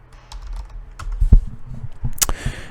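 Typing on a computer keyboard, a close, uneven run of individual key clicks and taps with a couple of sharper strikes.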